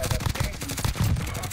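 Rapid automatic gunfire in the video game Call of Duty: Warzone rattles in a dense, continuous burst, loud and close, with a voice faintly present underneath.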